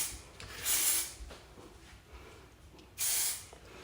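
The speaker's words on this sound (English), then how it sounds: "you take your heavy duty hairspray and you spray that in" Two bursts of heavy-duty hairspray hiss close up onto curled, teased cheer hair, each spray lasting under half a second with a short pause between.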